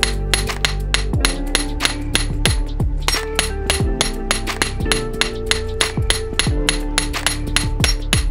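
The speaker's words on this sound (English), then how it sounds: "Hammer the loop flat using a chasing hammer and steel block." A chasing hammer flattens a sterling silver wire loop on a steel block with a steady run of sharp, ringing metallic strikes, close and loud, about two blows per second.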